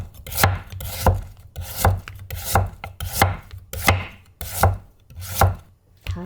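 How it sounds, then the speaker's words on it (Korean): A knife chops a carrot on a cutting board in steady, evenly spaced strokes, about eight crisp thuds with short scraping rubs between them, close and clear with no voices. "당근은 손 다치니까 밑뿌리를 조금 잘라주세요."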